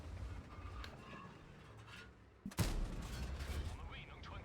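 A tank gun fires in World of Tanks during a match with a WZ-120-1G FT tank destroyer, one sharp loud blast followed by rumbling echo over low battle ambience and someone talking.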